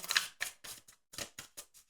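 Tarot cards are shuffled by hand, giving a quick run of about eight crisp, papery riffle bursts that sound close and fairly soft.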